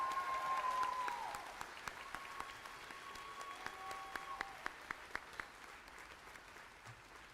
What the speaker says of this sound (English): Join me in a round of applause for all of our honor student graduates.